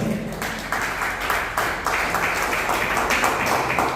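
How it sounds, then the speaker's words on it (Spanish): Congregation applauding during a church service, a broad wash of clapping in uneven surges that stays steady and moderately loud for the whole stretch. "den un fuerte aplauso al Señor"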